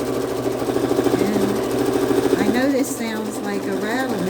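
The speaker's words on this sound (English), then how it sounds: "I know this sounds like a rattle machine." A sewing machine rattles steadily through free motion quilting on a patriotic quilt, a continuous mechanical chatter with someone talking over it for most of the stretch.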